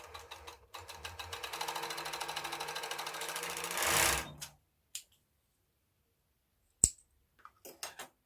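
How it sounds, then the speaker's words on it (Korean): An overlock sewing machine stitches the seam of leggings fabric in one loud, rapid, rhythmic run of about four seconds that speeds up before stopping, followed by a few isolated clicks and handling noises. "오버로크 해주세요."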